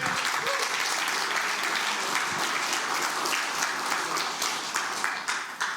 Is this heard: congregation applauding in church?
yes